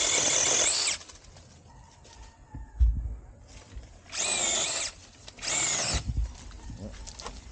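A SeeSii battery-powered chainsaw cuts wood in three loud, high whining bursts, each lasting about a second, separated by quieter pauses with light knocks and handling noise.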